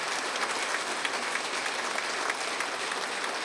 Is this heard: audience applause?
yes